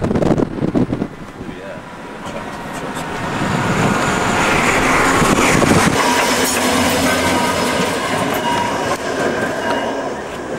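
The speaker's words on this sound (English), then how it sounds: "Train is coming." A train rolls past on the rails, its rumble swelling to a loud, steady roar mid-pass with clickety-clack beats, then easing slightly as it keeps going; faint voices sit under the noise.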